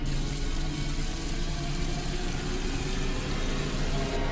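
Water runs steadily into a clogged sink that will not drain, a continuous hissing splash at moderate level with no pauses and no talking.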